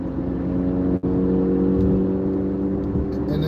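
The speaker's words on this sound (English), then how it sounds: "That car is just loud. You hear this? It just makes noise." A small Escort ST car drones loudly and steadily from close by while being driven, a constant low engine rumble with a brief dip near the start.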